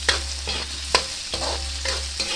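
Hotdogs fry in oil in a pan, a close sizzling hiss broken by several sharp scrapes and knocks of a spatula stirring at a loose, uneven rhythm, with nobody speaking.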